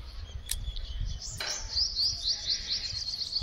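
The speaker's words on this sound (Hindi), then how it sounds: "अब जाने कौन सी चिड़िया बोल रही है, इतनी बेसुरी आवाज है कर रही है" An unidentified bird gives a quick series of harsh, tuneless chirps, fairly close and loud, repeating over a low outdoor background with no talking.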